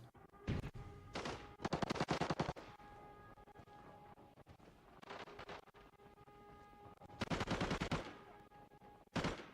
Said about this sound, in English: listening to those footsteps and the gunshots that's happening